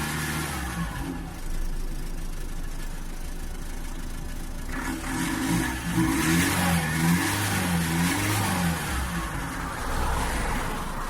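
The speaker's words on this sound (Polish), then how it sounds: "Na początek odpalam samochód z podłączonym, aczkolwiek uszkodzonym zaworem EGR." Renault Laguna 3 2.0 dCi diesel engine with a faulty EGR valve, cranking and starting partway through, then running with uneven, rising and falling revs close to the microphone.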